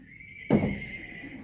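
A horse gives a single short neigh that sounds fairly close and moderately loud, rising suddenly over a quiet background with a faint steady tone.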